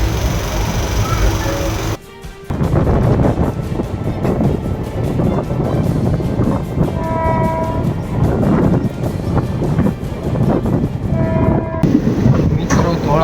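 Passenger train on the Dhasa to Vapi route rumbling along, heard from inside an empty coach, with a steady loud low rattle and rhythmic clatter of wheels, a brief drop in level early on and faint tonal hums.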